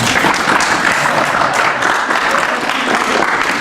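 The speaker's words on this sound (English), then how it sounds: "So we're clapping, and it's fading, and then it picks up." An audience at a live band leadership seminar claps steadily in a dense, loud wash of applause that stays close and continuous throughout.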